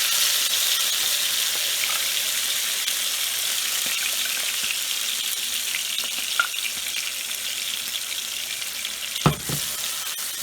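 Ground tomato and onion paste frying in hot oil for an okra masala, a soft steady sizzle with occasional faint stirring clicks and one sharper knock near the end.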